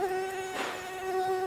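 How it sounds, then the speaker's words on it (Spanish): Flies hum close by over an open-air garbage dump piled on a city street, a steady droning buzz with a short burst of rustling noise partway through. "Es un banquete para las moscas."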